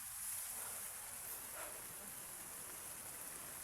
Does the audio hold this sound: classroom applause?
no